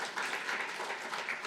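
Church congregation clapping to congratulate newly elected elders during a worship service, a soft, even patter of applause with no talking.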